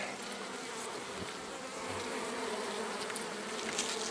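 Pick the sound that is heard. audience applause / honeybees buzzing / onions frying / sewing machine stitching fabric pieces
honeybees buzzing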